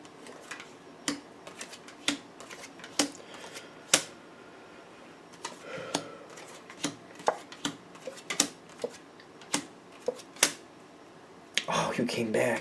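Tarot cards being shuffled by hand, a series of sharp papery snaps and flicks at irregular intervals, close and fairly quiet, with a burst of rustling near the end.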